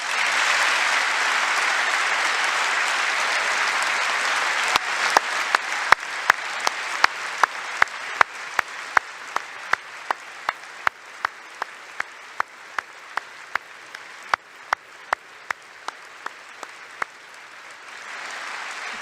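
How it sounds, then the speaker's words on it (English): Crowd applause fills the chamber at the 2018 State of the Union, then a single nearby person's sharp, evenly spaced claps ring out on top of the steady background clapping for over ten seconds. "Does anyone else hear the cameraman clapping?"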